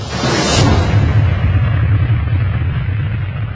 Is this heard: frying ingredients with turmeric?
no